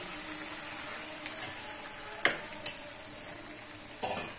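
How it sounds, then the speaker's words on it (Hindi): Chicken pieces going into a hot pan for a karahi dish set up a steady broad sizzle and hiss, with a few sharp clinks and stirring knocks over it, close and fairly quiet, no talk. "तो अब हम अपनी चिकन को डाल देंगे।"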